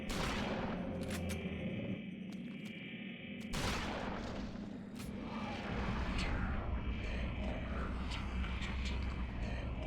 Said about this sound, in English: I'm gonna equip my shotgun for you.